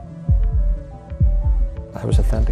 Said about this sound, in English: We're using your heartbeat.